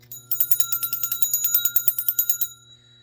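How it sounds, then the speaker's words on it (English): A small bell is struck in a quick, steady series of about twenty close, bright chimes, ringing loudly for a couple of seconds over a low steady hum, then stopping and leaving a faint tail. "Let's ring this bell again."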